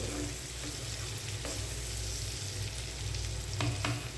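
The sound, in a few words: shrimp frying in a pan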